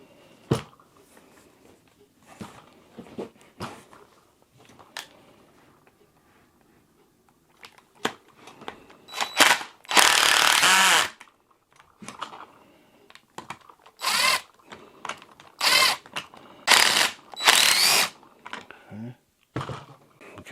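A DeWalt power driver loosens the stock screws on a Mossberg 940 JM Pro shotgun, firing in several short whirring bursts of varying length amid quieter handling clicks and knocks, with someone talking between them.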